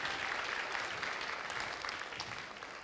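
A studio audience at a televised talk show claps for a singer, a sustained crowd applause with scattered sharper claps, moderately distant and steady from start to end.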